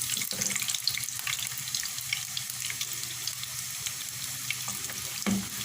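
Chicken koftas frying in hot oil, a steady close hiss and crackle that runs throughout, with a few faint clinks and taps.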